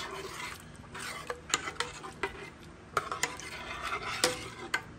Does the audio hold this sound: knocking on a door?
no